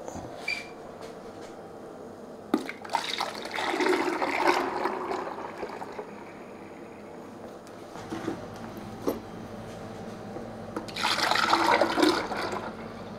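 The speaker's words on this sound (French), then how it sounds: "maintenant, je vais transférer mon mix à glace dans des pots, dans des brocs" Ice cream mix poured into jugs, heard as two stretches of liquid splashing and streaming, the second following a pause, over a low background hum.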